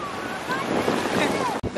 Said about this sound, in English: The waves are crazy